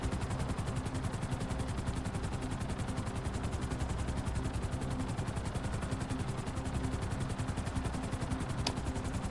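Rapid, steady chopping of helicopter rotor blades in a video game throbs continuously, loud and close, with a constant engine whine.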